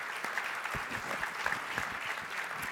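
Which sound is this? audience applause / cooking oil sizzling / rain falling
audience applause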